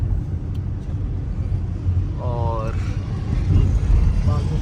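Street traffic in Kathmandu, including Tata, Hyundai, BYD and electric cars, rumbles along as a steady low drone with a horn-like tone, while someone talks over it.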